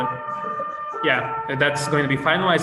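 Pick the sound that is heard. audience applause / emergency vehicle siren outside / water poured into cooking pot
emergency vehicle siren outside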